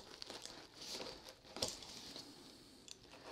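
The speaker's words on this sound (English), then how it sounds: "So now we'll just kind of slice open the inside box." A box cutter slitting the B&H tape on an inner cardboard box, with close, crinkly scraping and tearing strokes, one sharper rip in the middle and quieter rustles around it.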